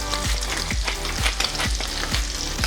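Prawns frying in a hot pan with a loud, dense, continuous sizzle. Rhythmic, tonal music appears to play underneath.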